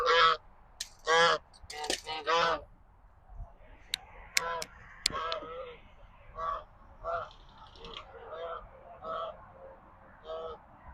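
Geese honk nearby on a goat farm, several loud, sharp honks at first, then a run of softer, evenly spaced calls.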